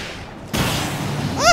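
Gunfire in the video game Alan Wake: a sudden loud burst of shots that keeps rumbling as sustained fire, ending with a brief whistling, warbling tone.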